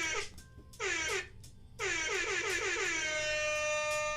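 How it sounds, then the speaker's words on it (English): Loud truck-style air horn blasts close up: a short honk, a second burst, then a long sustained blare with a steady harmonic tone to the end. "The air horn wanted to give you a little bit extra."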